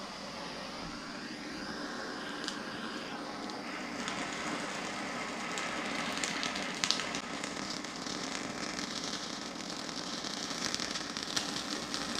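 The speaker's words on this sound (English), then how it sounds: "it's perfectly safe to use a propane torch if you're using the torch safely" A propane torch searing a sous vide steak, a steady roaring hiss with scattered crackles and pops of spattering fat close by, no talking.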